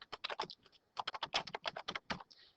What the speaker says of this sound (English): I have a little trouble here with my typing